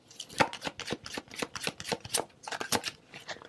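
Tarot cards shuffled and drawn by hand, a rapid run of crisp riffling and flicking bursts close up, about a dozen quick strokes in a row with no talking.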